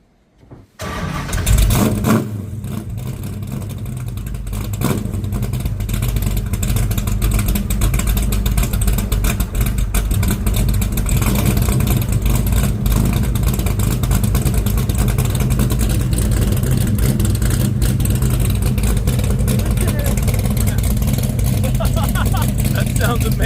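A 1968 Dodge Charger with an aluminum exhaust cranks and fires up, then settles into a loud, steady, deep rumbling idle that continues up close.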